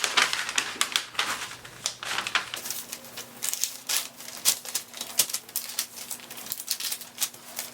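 A paper sleeve pattern is folded in half along a drawn center line, giving close crinkling and crisp tapping paper handling sounds in irregular bursts throughout, with no talking.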